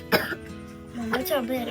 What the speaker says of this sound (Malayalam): ചുമ രണ്ടാൾക്ക് ചുമയാ